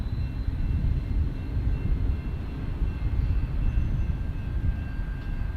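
Amtrak train passing in the background near San Diego airport, a steady low rumble that holds evenly throughout with no talking.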